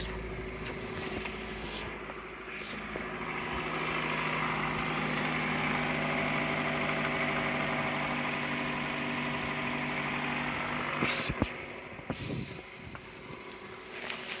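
A Daihatsu Copen 1.3 engine idles steadily just after a spark plug change, a close, even hum with a low rumble, and brief mechanical clicks near the end.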